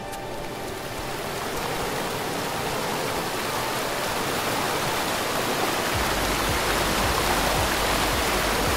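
Steady roaring waterfall in the video game Die Young, a dense continuous rush of falling water that holds constant and grows slightly fuller toward the end, with no voices over it.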